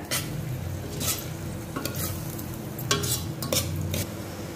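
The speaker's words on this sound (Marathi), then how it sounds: "अशा पद्धतीने 30 सेकंद पेस्ट कांद्यावर चांगली परतून घ्या।" Spice paste sautéing with onions in a pan for vatana batata usal, a steady sizzle broken by several scraping stirs of a spoon against the pan, close up with no talk.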